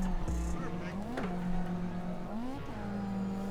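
A car drifting in CarX Drift Racing: a steady engine drone rises and falls in pitch as the rear swings out, with a brief tire squeal, under a person talking.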